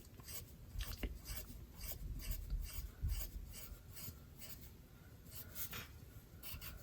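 A pencil draws strokes across paper, close and soft, in a rapid run of scratchy back-and-forth rasps with no voices.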